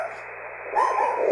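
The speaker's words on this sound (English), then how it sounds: "There goes the dogs." Dogs bark in a short burst over a ham radio contest, a few loud yips and barks near the end over a steady radio hum.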